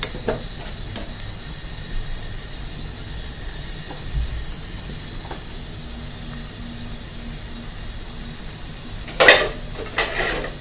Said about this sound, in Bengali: এখন ঢেকে দিচ্ছি, এটা হতে থাক।